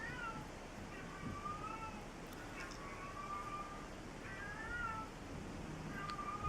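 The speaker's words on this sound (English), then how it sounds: "My neighbor's cat." A neighbor's cat meows several times at a distance, its thin, wavering calls faint against a steady rushing background hiss.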